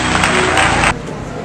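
A burst of loud applause and cheering from a church congregation at a pastoral ordination, dense and sustained, dropping off abruptly partway through.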